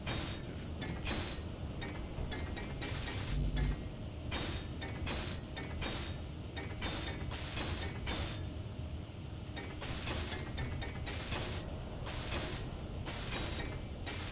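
Welding tool in Space Engineers works on a ship's steel plating, a continuous mechanical grinding clatter with rhythmic pulses that carries on evenly at moderate volume throughout, with no talk.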